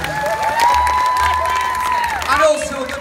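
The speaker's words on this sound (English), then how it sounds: "Round of applause to our winners" Crowd at an Irish gaming festival cheering and applauding competition winners, a dense roar of clapping and whoops held steady for about three seconds, with voices and tonal sounds mixed through it.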